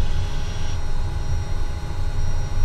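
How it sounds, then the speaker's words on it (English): A propeller aircraft engine drones steadily at raised prop RPM in a flight simulator game, a constant loud low rumble with an even hum throughout. "let's increase our prop RPM to max"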